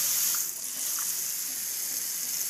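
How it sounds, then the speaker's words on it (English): Warm water runs steadily from a sink tap before hand washing, a constant bright hiss with little change, close and moderately loud, with a couple of faint clinks early on. "first turn the water to a nice warm setting."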